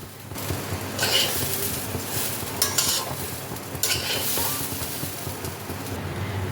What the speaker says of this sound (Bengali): ভালো করে মশলার সাথে চাল ডালটাকে মিশিয়ে নিতে হবে